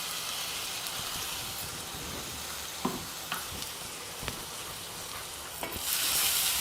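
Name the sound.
sautéing ground mint, green chilli and garlic paste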